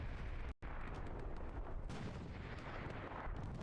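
Machine gun fire in a competitive online war game match, dense loud bursts of gunfire filling the clip, broken by one brief gap near the start.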